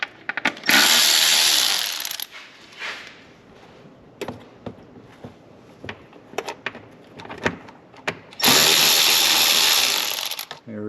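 On a 2017-or-later Ford 3.5L EcoBoost, a 7mm driver works the worm clamps loose on the intake pipes: two loud, sustained whirring power-tool bursts at the start and end, with scattered clicks and clanks between.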